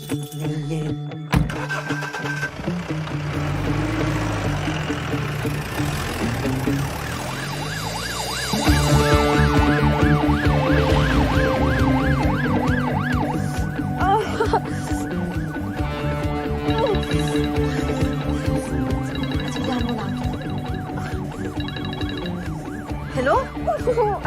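An ambulance siren wails through a tense film scene in a Hindi Bollywood movie, its rising and falling tone running loud and continuous for the whole stretch over engine rumble and a busy music score.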